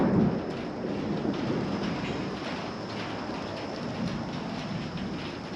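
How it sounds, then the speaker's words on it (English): Steady rain pours during a thunderstorm, a continuous dense hiss with a low rumbling undertone throughout, with no voices. "We're getting rain."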